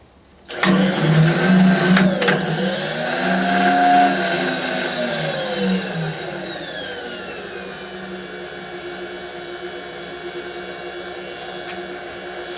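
Restored belt-drive 3000/4000 machine with a cross-feed carriage starts up and settles into a steady, smooth mechanical whir, with a rising then falling pitch sweep as it spins up before holding an even hum; no talking.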